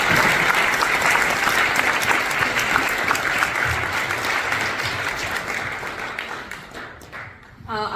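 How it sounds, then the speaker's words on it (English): An audience at a book launch for 'War of Lanka' gives a sustained, dense round of applause that stays loud throughout and tapers slightly near the end. "if you can please have a loudest round of applause for my sister Bhavna ji and my wife Shivani"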